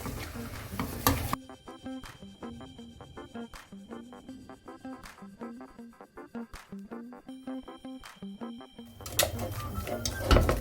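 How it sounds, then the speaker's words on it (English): A whisk clicks and taps rhythmically against a bowl while flour is stirred into milk for a creamy moussaka sauce, a steady close run of light metallic strokes between busier kitchen noise at the start and end. "You're gonna slowly mix in the flour with your milk bit by bit."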